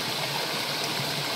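Clear creek water flows down from the mountain at a farm in Bilar, Bohol, making a steady, close, full rushing wash with no breaks and no voices.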